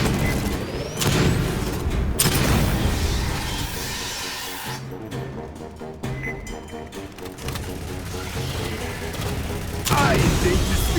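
Grenade blasts and gunfire from a combat scene in Aliens: Fireteam Elite, dense and loud throughout, with heavy booming bursts near the start and a renewed burst at the end, over layered mechanical game noise.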